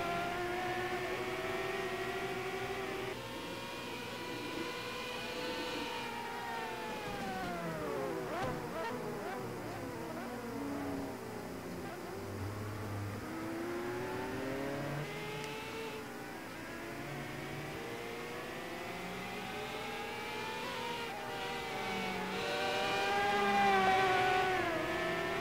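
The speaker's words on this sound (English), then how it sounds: "At least we actually had engine noises this time." Race car engines in the Formula Brash video game, whining motors that sweep up and down in pitch as cars accelerate and pass, layered and continuous at moderate loudness, swelling near the end.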